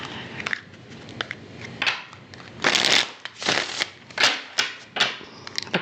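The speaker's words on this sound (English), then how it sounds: "Cards feel really good in my hands as I'm shuffling." A deck of tarot cards shuffled by hand at close range, giving soft riffling and papery slaps in irregular bursts, moderately quiet, with no talking.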